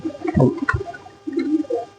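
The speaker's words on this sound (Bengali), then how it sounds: "কবুতর খাই দেওয়ার পরে কবুতর গুলো সব আসছে" Pigeons arrive to be fed with kichuri rice, giving soft nearby coos and brief fluttering and pattering as they gather.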